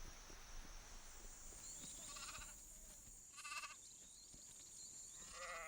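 Sheep bleat faintly in a few short, spaced-out calls, set well back against a steady, high background drone.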